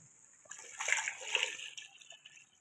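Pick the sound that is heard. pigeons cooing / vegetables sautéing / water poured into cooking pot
water poured into cooking pot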